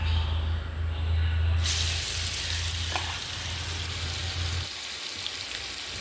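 Prawns fry in hot oil in a pan with a steady, loud, close sizzle that holds without a break throughout, and a low hum sits underneath it.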